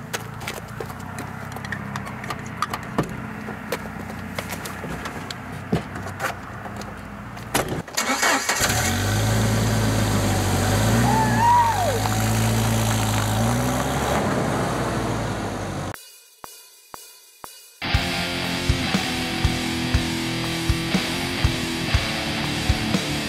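A car engine starts up with a rising mechanical roar and settles into a loud, steady idle, preceded by clopping footsteps and followed after a brief gap by rhythmic clicking beats under music.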